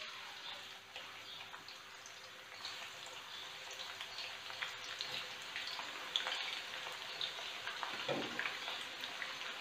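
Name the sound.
onions frying in hot oil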